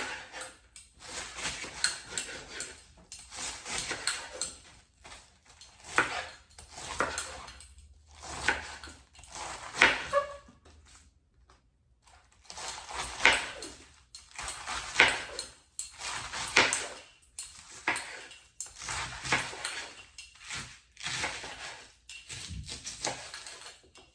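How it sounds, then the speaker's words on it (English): Knife slicing through half a cabbage on a board, a series of crisp cutting strokes in irregular bursts with short pauses between them, close and moderately quiet with no talking. "So I'm gonna start with half of the cabbage. And what I'm gonna do is, I'm just gonna slice this."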